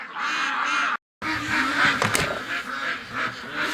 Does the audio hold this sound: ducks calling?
yes